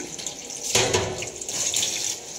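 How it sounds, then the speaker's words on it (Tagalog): Running tap water splashes over sweet potatoes being washed of sand in a sink, a steady close rush with brief louder splashes as the tubers are turned, with no voices. "huhugasan po natin ngayon yung ating kamuti. Siyempre may mga buhangin-buhangin. Kaya kailangan hugasan."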